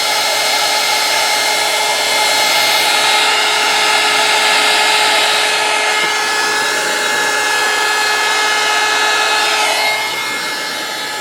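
Heat gun blowing steadily on the bent bristles of a snow brush, a loud continuous airy roar with a faint high whine, holding nearly constant for about ten seconds before easing slightly at the end.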